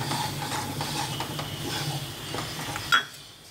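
Wheat halwa (gothumai halwa) being stirred in a pan after ghee is poured in, with steady scraping and a soft sizzle running throughout, plus one brief louder clink near the end.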